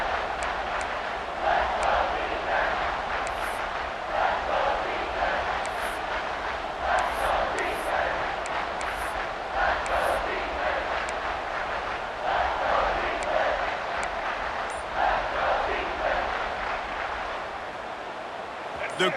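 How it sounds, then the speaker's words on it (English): Stadium crowd noise in College Football 26 during an FSU at Miami game, a steady roar of cheering swelling in waves before a big third down, with a commentator talking over it. "The crowd elevating its energy, willing this defense to get a stop on this big third down."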